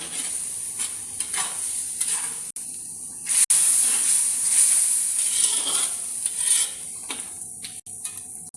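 Prawn masala frying in a pan, a bright continuous sizzle with bursts of spitting, punctuated by a few sharp clicks, close and fairly loud with no talking.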